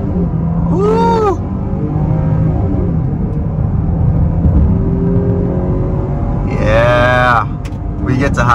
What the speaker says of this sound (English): Right here, off the line, onto a highway, and on the gas.